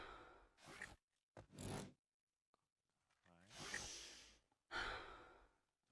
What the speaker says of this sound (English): this breathing sound, it's right in my ear